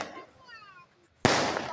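Fireworks go off at a Durga Puja festival celebration, with a faint whistling rise followed by a single sharp, loud crack and a burst of crackling that continues at close range.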